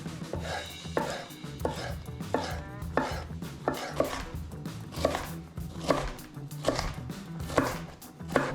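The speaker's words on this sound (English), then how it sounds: "I'm just going to slice these real thin." Knife chopping zucchini on a cutting board, about a dozen sharp, close taps in a steady slicing rhythm roughly once a second, with no talk over them.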